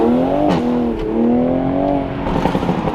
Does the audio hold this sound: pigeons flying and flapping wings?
no